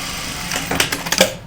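A sewing machine runs in a short burst as it stitches fabric squares together for a dog coat, with rapid mechanical clatter that is loud and close, and no voices.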